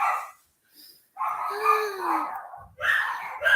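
A pet dog barks and yelps excitedly in short loud bursts with brief pauses, close by and with no one talking over it.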